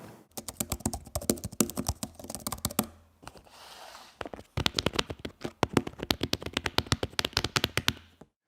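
Keys clack rapidly on an iPad Pro Magic Keyboard and then on the older Smart Keyboard, crisp close-up bursts of typing with a brief pause between the two runs.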